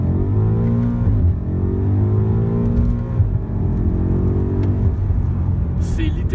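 BMW M5 Competition accelerating hard from first gear inside the cabin, a loud engine rising in pitch through repeated sweeps as gears climb, with a voice speaking briefly over it.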